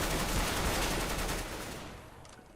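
Rapid sustained automatic fire from a UMP submachine gun in CS:GO, a dense loud burst through the first second and a half that then trails off into a fading echo.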